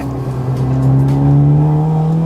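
A supercharged Honda Accord Euro R accelerating hard, its engine a loud, close roar climbing steadily in pitch as the revs build.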